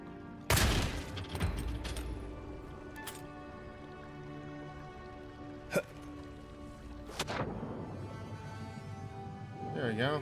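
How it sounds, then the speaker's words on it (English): Shots from a weapon in the fantasy game Avowed crack out as a few sharp separate bursts, one loud near the start and others spaced apart, over quiet ambient game music and tones. "I keep shooting accidentally."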